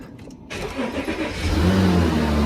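A cheap, broken Volkswagen Touareg with defective steering cranks briefly and catches, its engine settling into a loud, close, steady idle that swells slightly as it runs.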